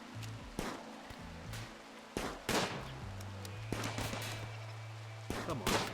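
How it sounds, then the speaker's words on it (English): Gunfire in the Rimworld video game: several sharp scattered shots over low steady game music, irregular bangs spaced across the span, no talk. "Come on, point blank, shoot him."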